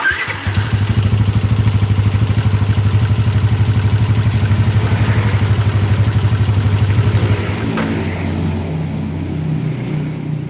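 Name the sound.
motorcycle engine running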